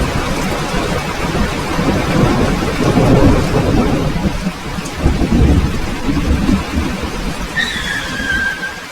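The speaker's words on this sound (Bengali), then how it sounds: "বৃষ্টি একটানা পড়ে চলেছে, সাথে বজ্রপাত" Heavy, unbroken rain pours down in a cartoon storm effect as low thunder rolls and rumbles throughout, and a short, high squealing cry rises near the end.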